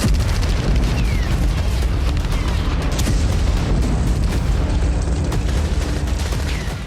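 A heavy, continuous rumbling roar from an air strike on Khan Younis, like a large explosion echoing on and off, loud and sustained with crackling bursts.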